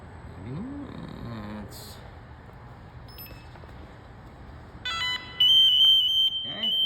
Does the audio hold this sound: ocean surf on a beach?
no